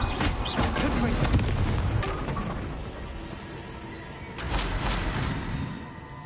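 A Confringo fire-blast spell goes off in Hogwarts Legacy, two booming explosive bursts separated by a rumbling tail, with a faint voice in the background.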